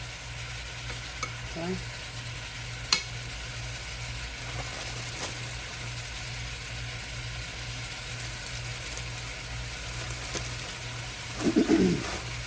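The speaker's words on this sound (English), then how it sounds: "Just gonna stir them up in there. And let them cook." French cut green beans are stirred in a frying pan, with a steady sizzle and soft scraping throughout and a brief louder stir near the end. A voice speaks once briefly.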